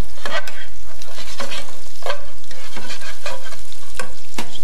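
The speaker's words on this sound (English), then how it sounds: "And we saute the mushrooms." Mushrooms sautéing with garlic in olive oil in a pan: loud, close sizzling with repeated scraping stirs at a steady rhythm, no talking.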